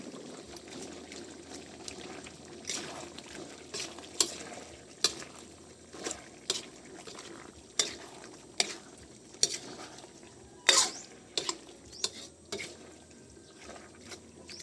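Bicol Express being stirred in a pan, with repeated scraping and clacking strokes of the spoon over a soft sizzle, close and fairly loud, the strokes coming at irregular intervals with no talking.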